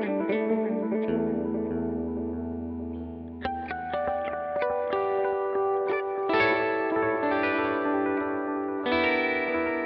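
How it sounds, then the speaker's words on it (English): Electric guitar through a NUX Trident multi-effects pedal set to delay into reverb, playing sustained chords and single notes whose echoes and lush reverb tails linger and overlap, loud and close. "Still, for me, it's going to be a delay into reverb."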